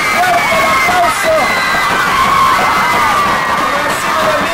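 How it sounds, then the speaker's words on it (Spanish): Crowd at a dance pageant final held in a pavilion, loud sustained cheering, shouting and whooping with applause mixed in, constant and close throughout. "Fuerte el aplauso."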